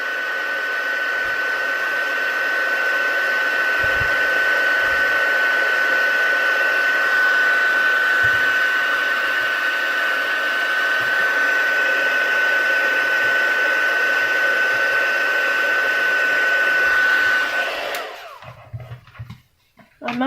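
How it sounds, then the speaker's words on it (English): A heat gun blows a steady, loud whooshing hiss with a faint whine while embossing powder is melted on a stamped card, running continuously for about seventeen seconds before switching off. "Heat gun again. Sorry about the noise"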